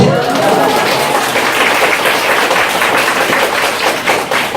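At a Korean lecture event, the audience breaks into big, sustained applause: dense, close clapping mixed with crowd noise that fills the whole stretch at an even, loud level.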